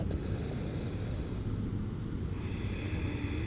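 Slow, deep nasal breathing during a stretching exercise, a steady close airy inhale and exhale with soft snorting texture, heard alone.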